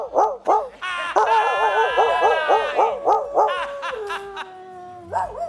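A man vocally imitates a dog barking in the distance, giving a rapid run of yelping, whining barks with sustained howl-like tones, loud and continuous for several seconds.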